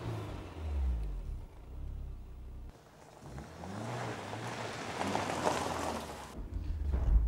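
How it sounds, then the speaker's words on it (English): A car is driven fast, its engine rumbling and then climbing as it accelerates, with steady road and wind roar building toward the end. "The idea is you're supposed to take it out, drive it, enjoy it, drive it quite fast."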